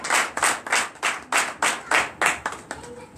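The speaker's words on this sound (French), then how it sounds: "Donnez l'acclamation à sa parole." A church congregation at a Sunday service claps in a steady rhythm, with about ten sharp, evenly spaced claps that ring in the room and soften toward the end, with no speech over them.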